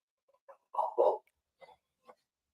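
A dog gives a few short barks and yelps, close and fairly loud, with brief gaps between them and no talk.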